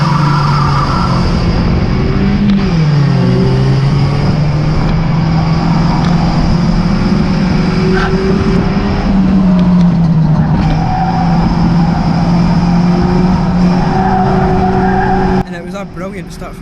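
Stock cars accelerate hard from the race start at Cowdenbeath Racewall, engines roaring loudly with rising and falling pitch and tyre squeal as the pack passes, mixed with crowd or track noise; the sound drops abruptly near the end.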